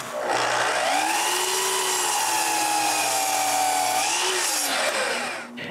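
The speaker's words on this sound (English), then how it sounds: "I begin by cutting a glue up I made to the size of the bottom wheel mount" A power saw cuts steadily through a wooden glue-up for a homemade bandsaw's bottom wheel mount, its loud whining tone sagging under load and rising again for about five seconds before spinning down, with no talking.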